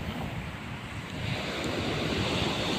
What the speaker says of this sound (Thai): ได้ยินเสียงทะเลไหมครับ เสียงคลื่นครับ